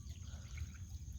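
Water flows and trickles in a stream by rice fields, a faint, continuous low gurgle with soft splashes and no voices.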